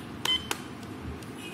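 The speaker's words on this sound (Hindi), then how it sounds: "यहां से सेट बटन को प्रेस करा" An Ajanta ODC-190 digital clock gives a short, high electronic beep as its set button is pressed, followed by faint button clicks in a quiet room.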